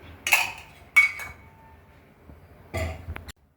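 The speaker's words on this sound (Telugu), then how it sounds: "గ్యాస్ ముట్టించుకొని ఒక గిన్నె పెట్టుకోవాలి. దీంట్లో కొద్దిగా ఆయిల్ వేసుకోవాలి." A metal pot set down on a gas stove, with cooking oil poured in, gives a few sharp clinks and knocks at irregular intervals, close and fairly quiet in an otherwise still kitchen.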